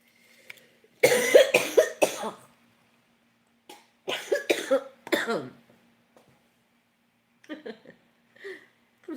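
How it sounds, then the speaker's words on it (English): A tarot reader coughs in a sudden fit, with two clusters of harsh, close coughs a few seconds apart and a fainter pair of coughs near the end, against quiet. "all of a sudden I'm coughing"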